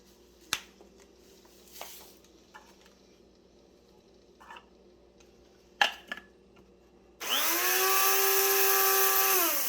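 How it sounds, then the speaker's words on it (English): A small electric coffee grinder whirs loudly for the last couple of seconds as it grinds already-ground coffee beans finer, after a few quiet clicks and handling noises. "So first I'm going to grind my beans a little bit more."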